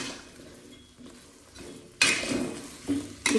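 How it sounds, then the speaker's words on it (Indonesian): Bottle gourd stir-fry is stirred in a pan, soft scraping and clinking at first, then louder clattering utensil strokes and a burst of sizzle in the second half. "Kita aduk sampai rata biar bumbunya merata"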